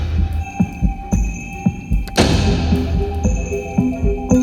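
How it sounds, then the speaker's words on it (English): A heartbeat sample serves as the drum part of a studio song production, its paired lub-dub thumps beating steadily under a sustained synth hum, with a swelling noisy wash entering midway. "It's actually a heartbeat. That's the drums of it."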